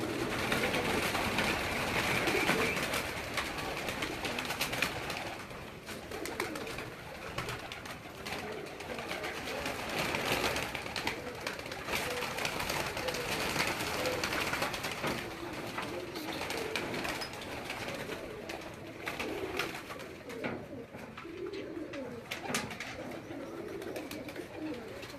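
Pigeons cooing on a rooftop in Thon Sarai Alamgir, soft repeated coos continuing throughout over a busy outdoor background, with people talking intermittently nearby.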